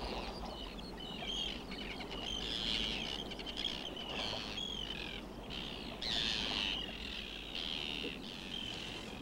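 Many seabirds calling and cawing together at twilight in a northern coastal land, a continuous loud colony chorus of overlapping harsh squawks and chirps with no gaps.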